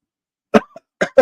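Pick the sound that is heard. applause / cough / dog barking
cough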